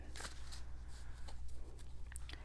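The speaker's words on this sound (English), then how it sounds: "I'm not the best at shuffling them" Large, cream-coloured medieval-themed tarot cards being shuffled by hand, giving soft papery riffles and flutters in short bursts over a steady low hum, close and quiet.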